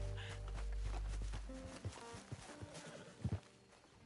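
A horse in Red Dead Redemption 2 whinnies loudly up close, followed by a few scattered hoof thuds and steps, with no talking.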